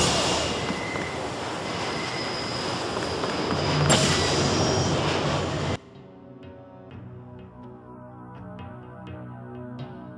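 Train ride in Deus Ex, opening with loud rattling wheel and rail noise that cuts abruptly to a quieter interior hum with faint rhythmic clicks, no voices.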